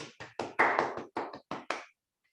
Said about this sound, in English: let's all give ourselves a big round of applause